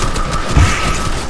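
Sniper rifle shots in Fortnite, a loud close burst of gunfire with a heavy low thump in the middle of a dense, continuous game soundscape, no talking.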